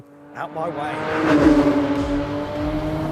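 A Porsche Cayman GT4 RS on a race track revs hard and loud up close, its engine note rising and holding strong with people talking over it.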